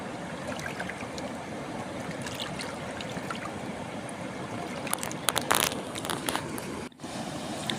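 Water rushes steadily along a canal with a constant, full, waterfall-like roar. A brief cluster of crisp splashes and crunches rises near the end, and no voices are heard.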